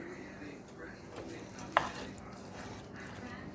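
A spoon scrapes and stirs as shredded cheese is mixed into the food in a pot on the stove, a soft continuous churning with one sharp knock partway through.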